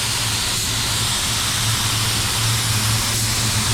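A spray gun lays a first wet coat of white pearl paint with heavy overlap, a constant loud airy hiss over a steady low compressor hum, with slight swells as passes change.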